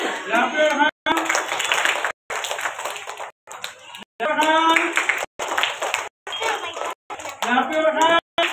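Audience applause at a school prize announcement arrives in choppy segments of brisk hand clapping, loud and nearby, interrupted by repeated brief silences and overlaid with talking voices.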